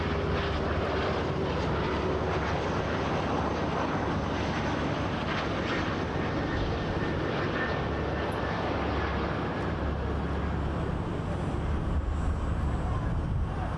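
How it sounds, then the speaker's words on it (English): An RJ900 regional jet from Kansas City arrives on runway 24L at Toronto Pearson, its engines a steady, loud roar with wind buffeting throughout. "RJ900 from Kansas City."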